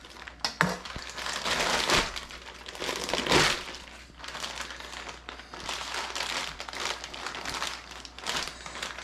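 Plastic wrapping crinkles and tears as a packaged pork belly is opened for home bacon making, with close, busy rustling and crumpling throughout and a louder crunch midway.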